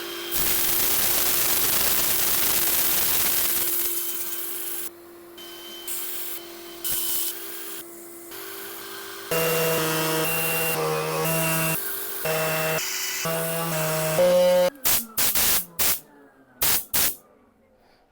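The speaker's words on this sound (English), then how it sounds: "I'm going to set up for sanding" Sanding 50,000-year-old kauri wood spinning on a lathe: a steady, loud abrasive rush over a droning motor hum, shifting in tone partway through and ending in a series of short, separate scraping bursts.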